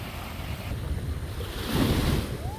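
Pacific Ocean surf breaks along the shore under steady wind, a continuous wash of noise with gusty microphone buffeting that swells louder in the second half.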